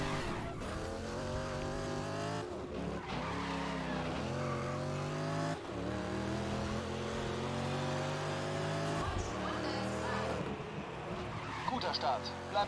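Car drifting with tires squealing in GRID (2019) on PS4, a loud sustained engine roar with rising and falling revs, continuous throughout with occasional skid bursts, while a voice talks over it.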